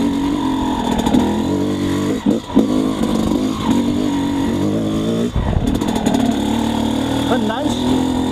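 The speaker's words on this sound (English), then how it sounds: "Let's try the 2N gear test again. 2N gear, no clutch." A motorcycle fitted with a Keihin PWK Airstriker 36S carburetor and JD jetting kit, pulling in second gear without the clutch; a loud, steady engine drone rises and dips with brief throttle changes throughout.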